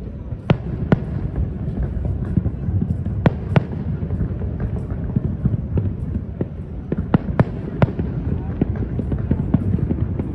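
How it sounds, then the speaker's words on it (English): Sharp fireworks bangs pop irregularly at a distance in Miami, Florida on a Friday night, their reports echoing off buildings, with a steady crowd murmur and background noise throughout. "You can hear the sound of the fireworks ricocheting off the buildings"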